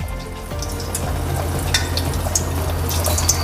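Pieces of cut fukien tofu skin go into preheated frying oil in a home kitchen, giving a steady low sizzle with scattered crackles and pops, close and moderately loud.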